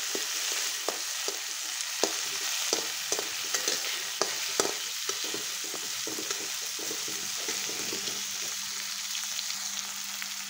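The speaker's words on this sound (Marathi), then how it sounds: "त्याच्यामध्ये आता मी टोमॅटो टाकणार आहे। टोमॅटो टाकून चांगलं परतून घ्यायचं।" Tomatoes sauté in a pan with browned onion, a steady close sizzle under a string of regular spatula scrapes and taps against the pan, with no talking.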